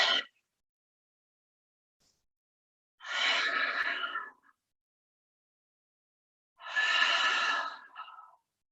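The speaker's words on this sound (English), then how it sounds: "3 deep, heavy breaths here." Deep, heavy breaths during a yoga practice come as long, close airy exhales, with one cut off at the start and two full breaths a few seconds apart, separated by silence and no talking.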